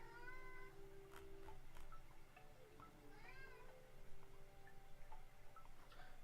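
A cat meows several times, with short rising and falling calls spread across the clip over a faint steady hum indoors, with no speech.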